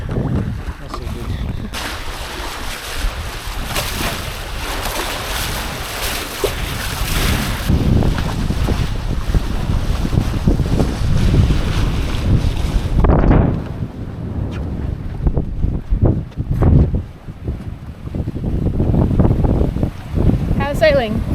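A catamaran under sail in roughly 10 knots of wind, with steady wind buffeting the microphone and water rushing along the hulls, while people talk over the noise.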